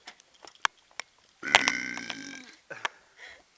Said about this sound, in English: these burps are gonna top you.